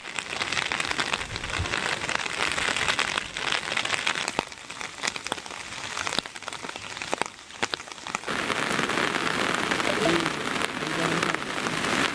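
Heavy rain pours steadily during a downpour that floods villages in Odisha, a dense loud hiss of drops hitting surfaces with occasional sharper spatters and brief dips in intensity.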